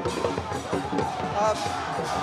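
Gauhati University students celebrate a student union election victory, a crowd cheering and chanting in rhythmic waves, close and loud, with voices overlapping throughout.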